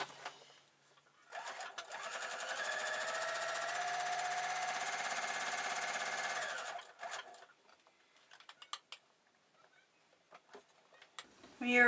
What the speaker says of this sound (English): place the sewing machine where I want it and run it through the extremities of the bow